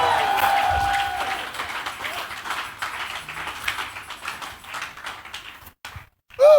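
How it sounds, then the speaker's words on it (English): A church congregation claps in a steady wash of hand claps that thins out, then a short pause and a sudden loud burst of sound at the end. "Clap your hands, oh ye people"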